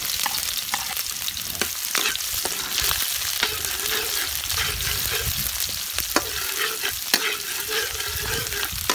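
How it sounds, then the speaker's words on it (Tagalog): Onion and garlic fry in cooking oil over an outdoor fire for aligue rice, with a constant close sizzle broken by frequent scraping stirs and clicks. "So, una, mantika muna. Yan, pwede na yan. Tapos, lalagyan natin ng sibuyas, saka bawang."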